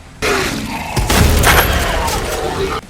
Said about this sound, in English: it's in this level that we finally get the super shotgun of Doom the Dark Ages